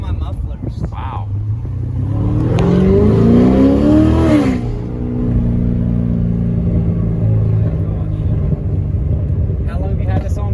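Corvette with headers, an X-pipe and mufflers revving loudly, the engine pitch climbing and falling in rough bursts with exhaust pops, then settling into a deep burbling idle close by as people talk over it.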